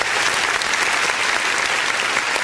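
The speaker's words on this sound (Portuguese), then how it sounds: "Vamos aplaudir o Senhor." A church congregation breaks into loud, continuous applause during a worship service, a thick wash of many hands clapping at once that holds steady throughout.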